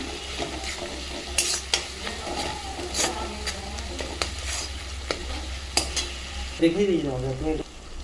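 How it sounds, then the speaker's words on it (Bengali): Softened tomatoes with a little sugar fry in a pan, sizzling steadily while a utensil stirs and knocks against the metal in irregular scrapes and clicks, close and moderately loud. "আর একটু ভালো করে ভাজবো কালারটা সুন্দর হওয়ার জন্য"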